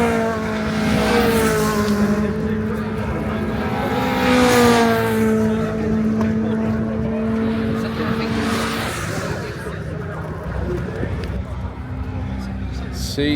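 A Honda CRX at a JDM gathering at Castle Combe revs up and down in sustained, rising and falling pulls, fairly close, with people talking over the engine noise.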